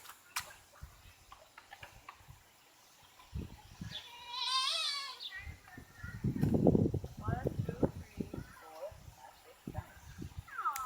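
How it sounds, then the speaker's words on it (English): Goats bleat at a farm park, with one clear wavering bleat up close, while people talk nearby and other faint animal calls rise around them. "Say, look at the goats, Char."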